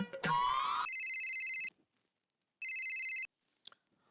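Electronic phone ringtone from a TV sitcom, two loud repeated bursts of steady tones separated by a gap, after a short rising sound at the start, with no talking.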